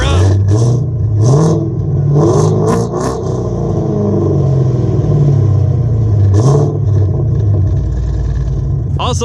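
Catless 6th generation Camaro V8 with long tube headers, running on E85, rumbling loud and close at idle with several sharp revs rising and falling over the deep exhaust drone.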